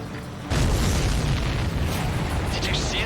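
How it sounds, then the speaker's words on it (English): A huge explosion from the video game Ace Combat 7: Skies Unknown erupts after a brief quieter moment, becoming a sustained, loud, rumbling roar with crackling debris that holds steady for several seconds. "Did you see that explosion?"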